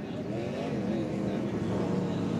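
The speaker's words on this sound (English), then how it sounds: "Sure enough, David Gilliland gets the engine fired back up." A NASCAR Camping World Truck Series race truck refires its engine and revs, a steady loud engine drone holding throughout, close and continuous with no pauses.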